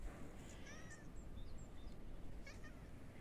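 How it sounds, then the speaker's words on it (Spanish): A female cat meows several times on a cold farm morning, faint, high and a little distant, under steady low rumbling wind or outdoor noise. "Mira, la gata viene a esperarme"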